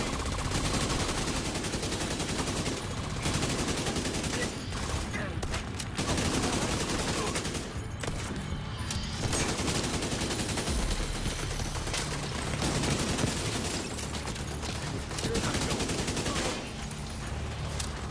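Sustained automatic gunfire in the Division 2 video game, dense loud fusillades almost without pause across the whole stretch, with brief lulls and occasional talk mixed in.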